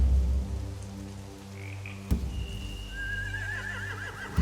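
Horses in The Walking Dead video game give a rising, wavering whinny with a sharp knock just before it, over a low droning ambience and faint croaking.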